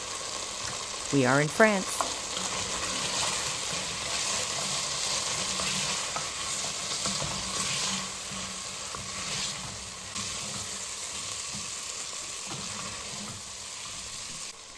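Mushrooms sizzle in butter in a pan while being stirred, a steady close frying hiss with occasional scraping, and someone speaks briefly near the start.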